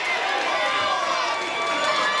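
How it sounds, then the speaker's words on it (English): A wrestling crowd in Woburn roars and cheers after a suicide dive at an independent show, a continuous loud wash of many voices. "And listen to the fans respond"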